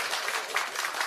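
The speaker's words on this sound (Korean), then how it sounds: "박수 한번 쳐주시기 바랍니다." Audience applause at a political field meeting on crime prevention in Chilgok, North Gyeongsang, a brief soft wash of many hands clapping heard at some distance.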